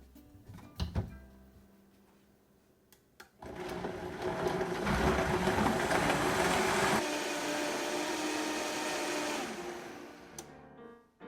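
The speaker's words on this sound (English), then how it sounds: "then we're going to blend up our soup" A kitchen blender whirs steadily through coconut curry butternut squash soup for several seconds, loud and close, after a few clunks and handling noises, then winds down and stops.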